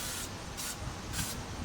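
WD-40 lubricant sprays from an aerosol can onto the bushings and seams of a Troy-Bilt snow blower in three short hissing bursts, close and steady, with no voices.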